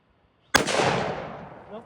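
A model 1899 Krag rifle fires once at a shooting range: a single loud, sharp report after near silence, trailing into a long, fading echo.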